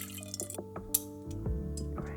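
Water trickling and dripping into a cup for tea, with small splashes and a faint clink, close and quiet, inside a camper van.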